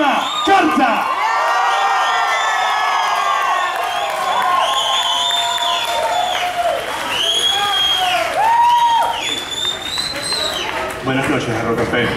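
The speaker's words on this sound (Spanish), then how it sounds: "con un fuerte aplauso, por favor, vamos a recibir a la gente" A concert audience in Caracas applauds and cheers loudly for a band, with whoops and shouts rising over sustained clapping, and a voice calling out over the noise.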